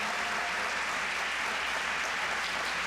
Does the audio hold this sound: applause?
yes